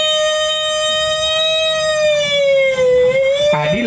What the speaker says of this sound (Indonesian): Ambulan apa nih?